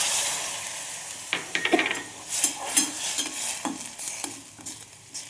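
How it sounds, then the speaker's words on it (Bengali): Water hits a hot frying pan and hisses, then a spoon scrapes and stirs in quick, irregular strokes over a soft steady sizzle, close and fairly quiet. "আমি এর মধ্যে জল দিয়ে দিচ্ছি।"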